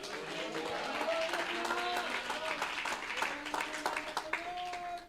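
A church congregation at a retreat service claps together in a sustained burst of applause, with voices and a sung or called-out tone rising over the clapping before it thins toward the end.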